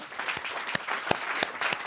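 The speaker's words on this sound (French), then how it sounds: "à applaudir nos 3 participants" Conference audience at a round-table colloquium applauding three panel participants, a steady wash of hand claps lasting a couple of seconds with a few sharper individual claps standing out.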